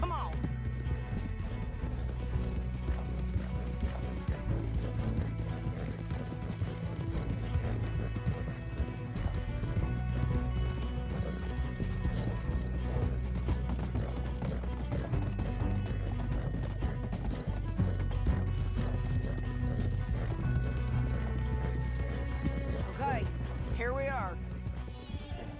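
Horses gallop in Red Dead Redemption 2, a continuous patter of hoofbeats that runs throughout under a steady bed of music, with a whinny and voices in the mix.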